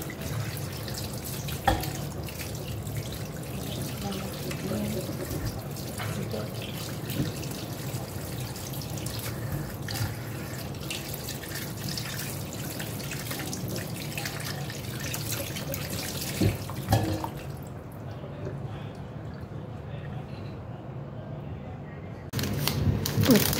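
Tap water runs steadily into a sink while pork knuckle is washed under it, making a continuous splashing hiss with occasional clatters and someone talking over it.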